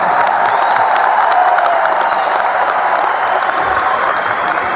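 Sustained crowd applause fills a large hall at an anniversary celebration in Delhi, steady and dense throughout without letting up, with no voices over it.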